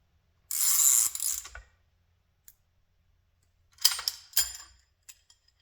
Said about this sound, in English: put my ratcheting wrench on there and then counter hold